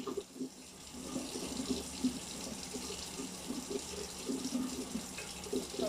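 Tap water running steadily into a coffee thermos being rinsed at a sink, a close continuous splashing gush at moderate level.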